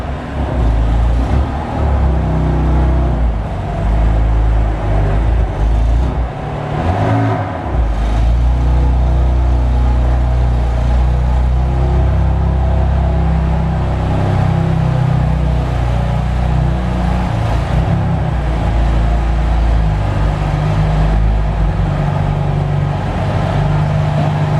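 A BMW M2 idles at a car gathering, its engine emitting a steady, low, rumbling purr that holds close and even, with faint background noise and no talking.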